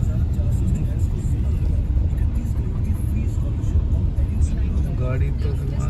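A steady, close car-interior drone from a moving car, with road and engine noise rumbling continuously while people talk over it.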